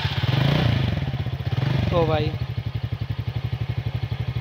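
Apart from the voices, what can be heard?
TVS NTORQ 125 Race Edition scooter engine started and revved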